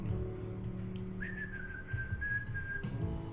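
A person whistles one long, slightly wavering high note over a quiet indoor background hum, held for about a second and a half before stopping, soft and close with no talk.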